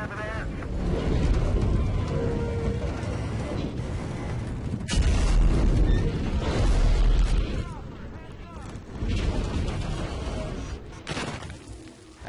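A heavy explosion in Battlefield Hardline beta gameplay lands as a deep, rumbling boom midway through, surrounded by ongoing battle noise and lower booms.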